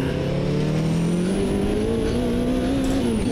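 A race car engine in the sim racing game Automobilista 2 on the Bathurst circuit in a historic 1983 setup: a loud, steady engine drone that climbs in pitch as it accelerates, with no voices.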